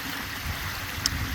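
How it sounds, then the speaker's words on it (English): A koi pond waterfall runs outdoors, giving a steady, close, rushing trickle of falling water with no voices. "we're going to keep the waterfall in play"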